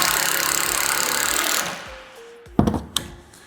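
A screw is driven into a metal fence panel of a DIY fence kit, heard as a short burst of drill whine followed by a few sharp metallic clacks and taps, close by.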